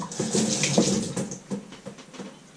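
Hot water poured from a kettle into a pot over fish stock in a kitchen, a loud splashing gush that fades over a couple of seconds, with no talking.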